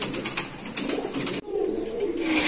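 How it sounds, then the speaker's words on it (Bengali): Pigeons at a pigeon farm coo in soft repeated phrases, fairly close, against a steady murmur of birds, with no talk. "এটা হচ্ছে মুখী কবুতর"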